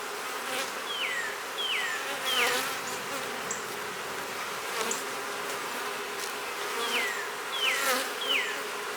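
Honey bees buzz around open hive frames, a constant close hum with several bees swooping past in rising and falling whines.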